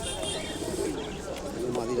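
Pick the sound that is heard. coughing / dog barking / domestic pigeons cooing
domestic pigeons cooing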